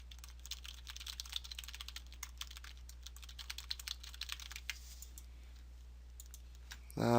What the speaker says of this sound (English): I hate typing while I'm recording